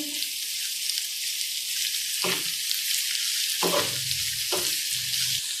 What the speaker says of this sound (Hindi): अब हम इसके अंदर एक कटा हुआ टमाटर ऐड करेंगे और इसको अच्छे से फ्राई कर लेंगे